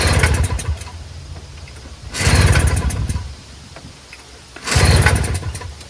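A Toro CCR2000 single-stage snowblower engine cranks in three loud, sputtering pulls that churn briefly without catching, with quiet stretches between attempts.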